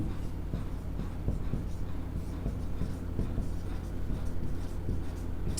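A pen writes notes during a geography lesson on the west coast region, making repeated short scratchy strokes at an even pace over a steady low background hum.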